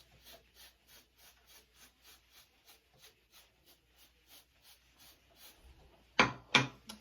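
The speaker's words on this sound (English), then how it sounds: "I'm just going to comb through the beard, get all the hairs going in the same direction" A comb pulled through a beard by a master barber, a soft rhythmic run of about fifteen brushing scrapes at a steady pace, close and quiet, ending with two louder rustling knocks.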